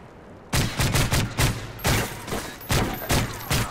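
First-person shooter video game gunfire during a search-and-destroy match rings out as loud, evenly spaced bursts of shots repeating roughly every half second, up close and with no talking.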